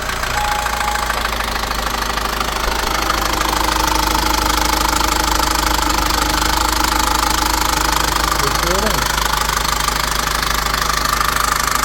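An Opel Astra K 1.6 136 hp engine idles loudly with a continuous metallic timing chain rattling and knocking throughout, close and steady.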